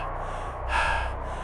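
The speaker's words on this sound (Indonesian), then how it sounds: "Napas berat." A heavy, rasping breath, a sharp gasping inhale followed by a snorting exhale, sounds close and loud as a horror sound effect set in a red tunnel.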